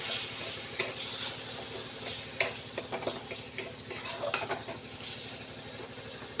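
Ground spices being stir-fried in a pan for a posto dish with pui greens, a steady soft sizzle with scraping spatula strokes and small clicks throughout, close and alone.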